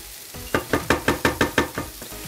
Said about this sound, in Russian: А тем временем наши пельмешки, они тоже жарятся, их помешиваем периодически.